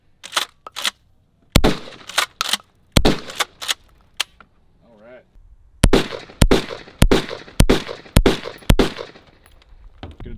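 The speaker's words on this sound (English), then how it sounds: "we're gonna take them out and go shoot them so you guys can actually see me shooting them" Custom guns firing outdoors in sharp, loud single shots, some spaced apart and others in quick bursts of several rounds, with a faint voice briefly heard between them.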